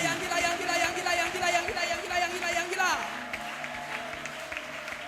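A church congregation claps and cheers in acclamation after a prayer, with steady applause and raised voices all the way through and a preacher's amplified voice calling out over the crowd.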